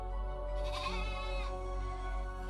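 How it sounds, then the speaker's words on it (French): Penned ewes with heavy udders bleat in a cave, one drawn-out wavering bleat rising above a steady low background hum. "Elles ne cessent de bêler, leurs mamelles sont lourdes."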